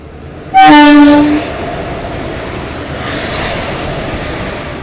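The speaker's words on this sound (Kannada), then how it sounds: "ಕ್ರಾಸಿಂಗ್ ಆಗ್ತಾ ಇದೆ ನೋಡಿ, ಗೂಡ್ಸು ಮತ್ತು ನಮ್ಮ ಟ್ರೈನು" A loud goods train horn blasts once nearby at a railway crossing, then a steady rumble of passing freight cars continues underneath.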